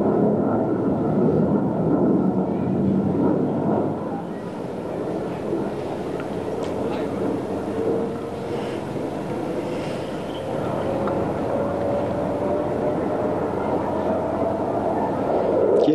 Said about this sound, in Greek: Συνεχόμενες περιστροφές γύρω από το διαμήκη άξονα του αεροσκάφους, επιδεικνύοντας τον εξαιρετικό βαθμό ανόδου και περιστροφής του F-16.